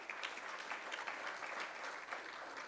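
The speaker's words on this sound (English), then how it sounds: "can we actually give you a round of applause?" At a G20 Africa investment summit, an audience gives a speaker steady, continuous applause as she comes on stage, a dense wash of clapping from a large crowd heard at a distance.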